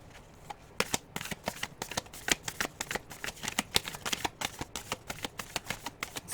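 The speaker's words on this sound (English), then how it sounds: "We're just going to get one card from this oracle deck." An oracle card deck being shuffled by hand: a soft, close series of quick riffling flicks and taps, steady and rhythmic throughout.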